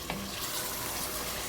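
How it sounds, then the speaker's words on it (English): Mutton stir frying in a pan gives a steady, dense sizzle with a faint scrape of stirring, heard alone and close. "Takes around 7 to 8 minutes of stir frying."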